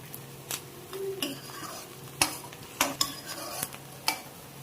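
Onions and green chillies fry in oil in a pan for cauliflower curry, with a soft sizzle under sharp metal spoon clinks and scrapes as they are stirred, close up, with no talk.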